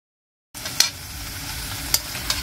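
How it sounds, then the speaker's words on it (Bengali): Washed vegetables frying in a pan, a steady sizzle starting after half a second of silence, with a few sharp clicks of stirring on top. "সবজিগুলো সব ধুয়ে নিয়ে এসে আমি ভাজছি"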